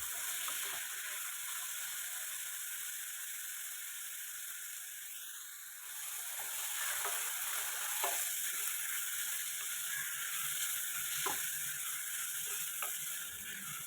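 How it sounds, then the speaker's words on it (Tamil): Onion and tomato sauté in a pan with a steady, close hiss, broken by a few soft clicks and scrapes as they are stirred. "வெங்காயமும் தக்காளியும் நல்லா வதங்கிடுச்சு"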